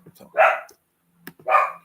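A dog barking in the background of an indoor room with a door left open, two loud distinct barks spaced about a second apart, each preceded by small yips.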